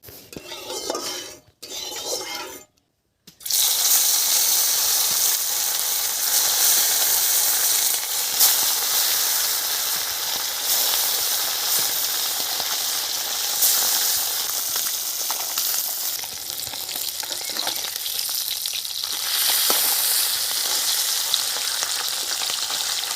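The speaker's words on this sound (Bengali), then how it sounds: "কড়া গরম হয়ে গেছে এখন আমি তেল দিয়ে দিচ্ছি" Oil hits a hot kadai for a Bengali chicken curry and breaks into a loud, dense, steady sizzle that carries on without pause after a couple of brief silent gaps at the start.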